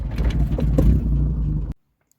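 A car engine runs close by and pulls away in a steady low rumble with a brief rise, then cuts off abruptly into near silence.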